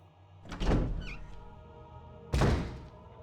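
A door in a dining room of a Resident Evil game unlocks and opens with two heavy thunks, the first a rising mechanical clunk and the second a sharp thud about two seconds later, loud and close.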